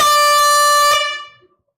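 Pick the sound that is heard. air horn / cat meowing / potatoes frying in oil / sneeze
air horn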